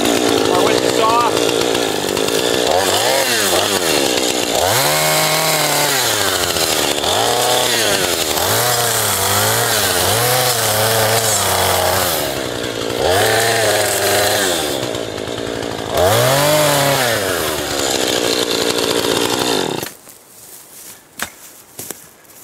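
Chainsaw trimming branches off logs for a trapping cabin: the loud, close engine revs up and down in repeated surges as it cuts, with someone talking over it, then cuts out near the end, leaving faint rustling.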